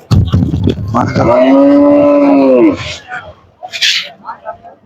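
Cattle at a busy Eid livestock market: one loud, drawn-out moo rises close by, with crowd chatter and voices around it before and after.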